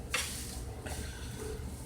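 Bacon-wrapped chicken with Swiss cheese fries in a pan, a steady close crackling sizzle with a couple of brief scraping stirs near the start.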